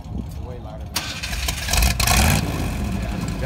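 A 2019 Dodge Charger fitted with carbon fiber snorkels roars to life about a second in and revs hard. The engine swells loudest near the middle, then settles to a rumbling idle while people talk over it.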